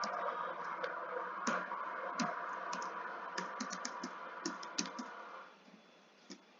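An email address is typed on a computer keyboard during an online PhD application to Worcester Polytechnic Institute, a close, quiet run of irregular key clicks that stops near the end.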